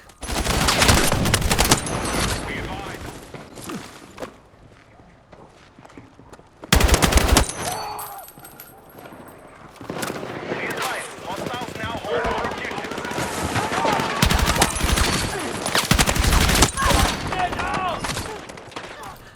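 Rapid bursts of M277 carbine fire in Battlefield 6, an MCX Spear-style rifle, crackle loudly in repeated volleys with short pauses, over busy in-game battle noise.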